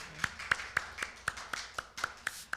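A small church congregation claps in thanks, about ten sharp, evenly spaced claps in a steady rhythm, fairly close and light, with no talking over them.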